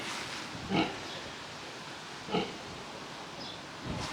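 A pig grunts briefly three times, spaced apart, against a steady background hiss, fairly faint and distant.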